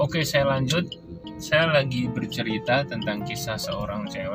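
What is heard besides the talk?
No everyday noises stand out.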